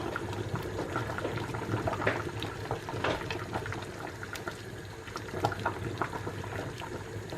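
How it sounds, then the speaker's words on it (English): A pot of soup bubbling on the stove, a soft continuous simmer with scattered pops and gurgles, close but faint, no talk. "Bubbling,"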